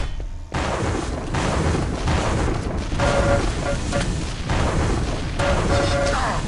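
Rocket launcher fire and explosions in a Quake match, heavy booming blasts that come in repeated bursts with brief gaps, loud and close, with no talk over them.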